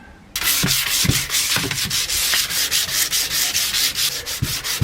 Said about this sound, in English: I need to rub down the 2 lockers and then I'll be ready to paint.